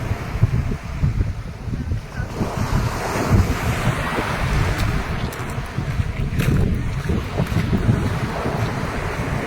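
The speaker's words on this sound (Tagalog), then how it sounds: "Sa ato pa kusog jud ay ang balod oh, kaabot pa jud diri." Heavy tsunami waves surge into the shore at Kiamba, Sarangani, Philippines, a loud continuous roar of surf and churning water with strong wind buffeting the microphone throughout.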